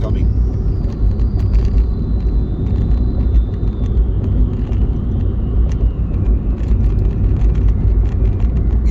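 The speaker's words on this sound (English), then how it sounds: "There's a bus coming." A bus approaching along a road, a continuous low engine rumble that stays loud and steady, with a voice present over it.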